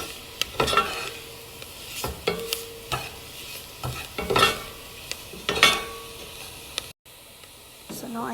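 Flour and broccoli soup ingredients are stirred in a pot, with a light sizzle under a series of distinct spoon scrapes and taps against the pot at uneven intervals, close up.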